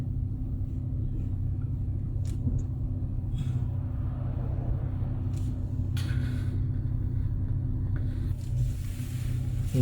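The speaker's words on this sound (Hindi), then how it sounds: "ये गाड़ी मुड़ने की तरफ आ रही है अभी।" A car drives steadily and nears a turn, its low engine rumble constant and fairly close, with a few brief clicks and rustles on top.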